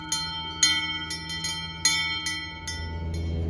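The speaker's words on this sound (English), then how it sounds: "They are huge bells." Large bells ringing in the Swiss mountains near Wengen, several loud clanging strikes at irregular intervals, each one leaving a long sustained metallic ring, close and heard alone.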